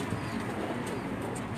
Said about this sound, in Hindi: ये معظم साहब के परवाजी कबूतर हैं जी,